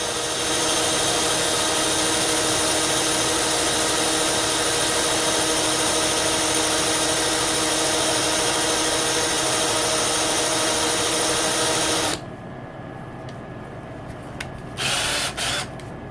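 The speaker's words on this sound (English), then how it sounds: "Just getting a little bit smoother, polishing it up just a little bit." A high-speed rotary power tool whines continuously while polishing the cylinder ports of a Yamaha YZ250 two-stroke, loud and steady for most of the time before cutting off, followed by a few short bursts.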